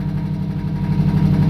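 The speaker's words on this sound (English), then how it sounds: "If you hear that knock, as he revs it, the oil pressure goes up" A 1965 Ford Mustang engine runs with a knock, a loud, close, steady mechanical drone with a faint rhythmic pulse and no talk over it.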